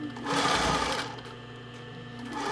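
A sewing machine runs a zigzag stitch along a fabric edge, holding elastic down. The motor whirs and hums steadily up close, louder at first and then easing to a slightly softer continuous run.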